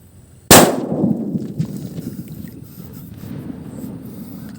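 A King Kong firecracker going off outdoors: one sudden, very loud sharp bang followed by a long rumbling decay and wind noise, with no voices.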